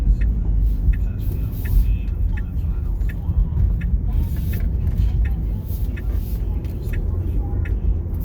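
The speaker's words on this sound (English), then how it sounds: "We're gonna make a right on Adams and go west." A car drives through downtown Los Angeles, its engine and road noise a steady low rumble with faint clicks overhead, while someone talks over it.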